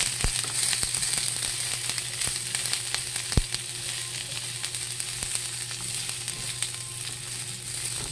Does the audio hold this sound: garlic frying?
yes